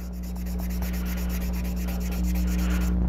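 Wet sanding primer on a model kit: a steady, close rhythmic rubbing of sandpaper strokes over a continuous low electrical hum, no voices.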